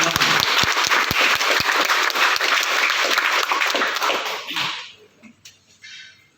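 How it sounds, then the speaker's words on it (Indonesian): Audience applause at a Christian theological college ceremony, loud sustained clapping from a crowd that fades out after about five seconds, leaving a few scattered claps and quiet room noise. "Tepuk tangan dulu."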